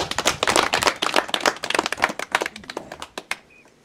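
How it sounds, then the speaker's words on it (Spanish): A small audience at a rural agricultural development gathering in Huaylillas district claps to welcome a guest: distinct, fairly close hand claps, busy at first, then thinning to a few scattered claps before fading. "Vamos a recibirlo con un fuerte aplauso."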